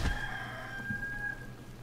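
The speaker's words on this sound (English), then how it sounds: "Well, that chicken says otherwise." A chicken in Warcraft III Reforged gives a steady drawn-out call, tonal and bright, heard alone over faint game ambience for about two seconds.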